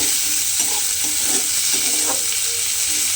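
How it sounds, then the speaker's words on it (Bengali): Onions frying in a pan for a jujube-flower side dish, a steady close sizzle with occasional soft stirring scrapes, with no talking. "আমি কিন্তু পেঁয়াজটা একটু ভালোভাবে ভেজে নেব"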